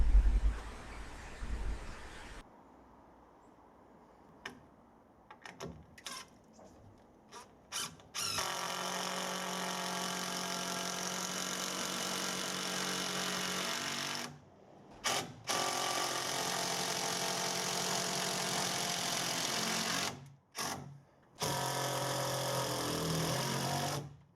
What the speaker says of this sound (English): It's just a case of screwing them into place now.